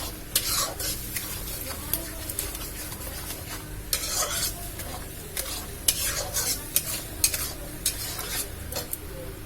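Ginger-garlic paste and cumin paste sizzle steadily in a hot pan as a spoon stirs them, scraping the metal in repeated short bursts over the continuous frying hiss.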